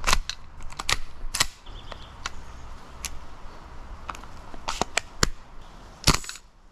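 An airsoft 416 carbine rifle fires several sharp, snappy test shots at irregular intervals, each a crisp close crack standing alone over quiet room noise.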